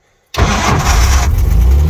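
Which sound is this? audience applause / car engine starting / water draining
car engine starting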